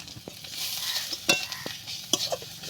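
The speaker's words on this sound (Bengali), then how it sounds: "যতক্ষণ তেল না ছেড়ে দেবে ততক্ষণ আমি ভেজে নেব আর একটু।" Stingray skin frying in hot oil with salt and turmeric, a steady sizzle broken by several sharp stirring scrapes, close and fairly loud with no talking.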